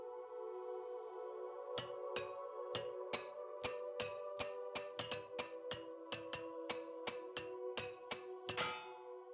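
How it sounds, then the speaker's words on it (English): In the Oblivion video game, a repair hammer strikes armor greaves again and again, sharp metallic clinks ringing out about twice a second over a steady droning game soundtrack. "I have one repair hammer."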